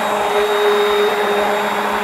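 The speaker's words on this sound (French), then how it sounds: "On n'a plus qu'à mixer la glace." Ice cream mix being blended with a mixer, a steady high whine with a whooshing, vacuum-like roar throughout, close and uninterrupted.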